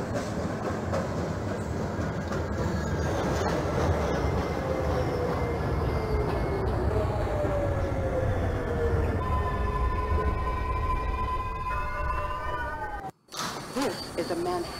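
A Manhattan-bound 2 subway train running in the OpenBVE train simulator game, with steady rolling rumble and rising and falling motor whine. A brief dropout near the end is followed by a short chime.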